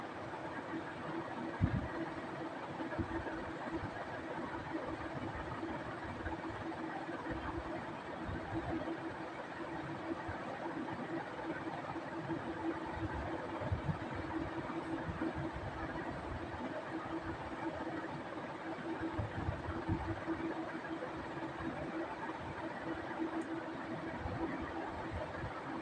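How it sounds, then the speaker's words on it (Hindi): A sewing machine runs steadily, stitching the fabric of a pant or palazzo with a side pocket. The motor hums in one continuous, even drone from start to finish. "ये देखिए इसी तरह फिनिशिंग से अच्छे से सिलाई लगा लेनी है।"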